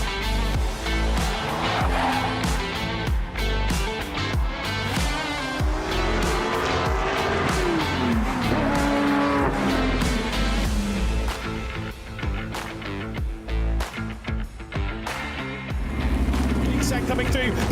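Prototype race cars compete at Imola in the Abruzzi Prototype Challenge, Round 5. Their engines roar loudly and continuously with rising and falling revs and passing sweeps, and a commentator speaks over the noise.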